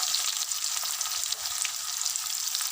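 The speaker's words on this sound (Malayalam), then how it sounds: "ആദ്യം എനിക്ക് 2 മണി കടുക് ഇടുക. അതിനുശേഷം വേപ്പിലിടുക, സബോള ഇടുക," Mustard seeds, curry leaves and sliced onion fry in hot oil with a steady, dense sizzle and crackle that holds level throughout, with no voices.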